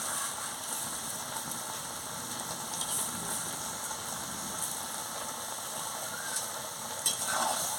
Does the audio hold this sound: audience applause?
no